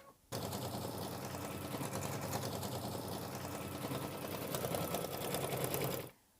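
A sewing machine stitches a snowman outline on a mini quilt, running as a loud, steady, rapid mechanical whir close by for about six seconds before stopping abruptly.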